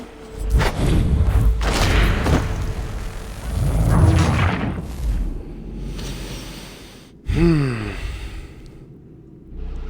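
Cannons fire in Assassin's Creed 3, heavy booming thumps rolling out over several seconds with low rumbling tails, plus a character's voice breaking through near the end.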